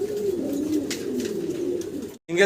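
Pigeons coo steadily at a pigeon farm in a low, rolling, continuous murmur that cuts off briefly near the end, then resumes.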